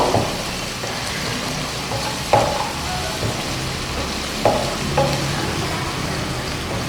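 Paneer korma gravy sizzles steadily in a pan while being stirred, a continuous frying hiss broken by a few sharp scraping clicks of the spoon.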